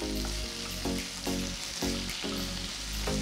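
Chopped tomato sizzles and crackles in a hot pan with ginger garlic paste and curry leaves, a steady close frying hiss broken by rhythmic stirring scrapes, with no voices.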